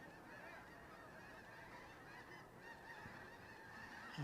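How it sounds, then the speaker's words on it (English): A gaggle of geese honking overhead at a youth soccer game by Lake Stevens, faint distant overlapping honks that continue steadily through the clip over a background hum, with no talk. "I hear that gaggle of geese coming over again"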